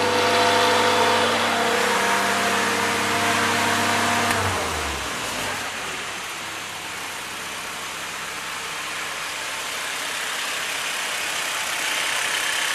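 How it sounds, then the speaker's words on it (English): A 1943 Jeep GPW engine, after a head gasket replacement, idles with a steady low rumble, its pitch dropping partway through before settling into a quieter, even idle. "Seems to be idling fine."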